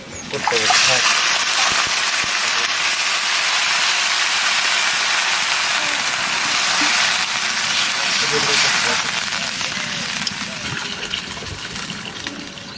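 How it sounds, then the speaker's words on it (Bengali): Water pours steadily into a pot of deep-fried onions for homemade chicken biryani, giving a continuous loud gushing rush with sizzle for about ten seconds before it eases off. "এবার এর মধ্যে জল দিয়ে দেবো"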